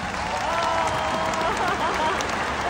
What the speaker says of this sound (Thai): ปรบมือให้คุณคิมซูยอนหน่อยฮะ